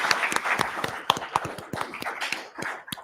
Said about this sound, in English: Let's give a big round of applause to our panelists.